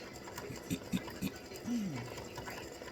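Embroidery sewing machine stitching freestanding lace Valentine hearts, a steady faint mechanical whir with a few brief louder clunks, running alone without talk.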